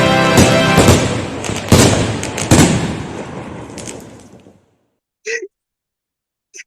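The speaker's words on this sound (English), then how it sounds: "Did you hear the fireworks?" A fireworks sound effect plays: a quick run of loud popping bangs and crackles that fade out over about four seconds, followed by a short faint vocal sound after silence.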